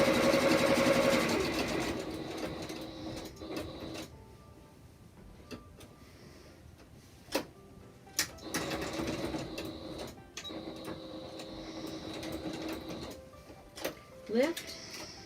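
A sewing machine stitches along the edge of a fabric face mask in bursts, starting and stopping with short pauses, quiet clicks and thumps in between as the work is pivoted.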